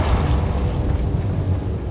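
A Confringo spell explosion in the Hogwarts Legacy video game, heard as a loud, sustained booming blast with a deep rumble that holds steady for about two seconds.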